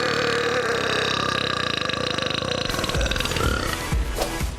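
A loud, sustained champion burp rips out for over four seconds, rough and rumbling throughout with a rising gravelly edge near the end, close and alone with no talking.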